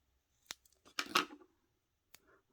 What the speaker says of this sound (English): Just cut them into pieces, especially for sentiments.